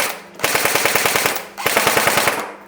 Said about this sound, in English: So just a standard AEG, and just chatting off a few rounds.